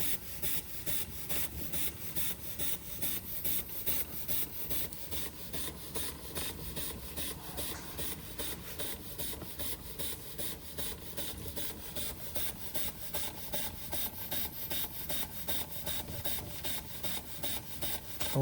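An old Josef Falk 456 overtype model steam engine runs steadily, giving off a continuous rapid mechanical chuffing and rubbing rhythm with an even, unbroken pulse at a moderate, close level.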